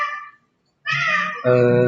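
A cat indoors at a guesthouse meowing close by, three short meows with a brief silence after the first and the last one lower and fuller.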